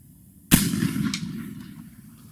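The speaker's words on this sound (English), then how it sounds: "I can tell it's hitting wood because of that smack it's making." A single sharp shot from an 1853 Enfield black powder rifle booms nearby and trails off in a short decay, with a faint smack of the bullet striking wood soon after.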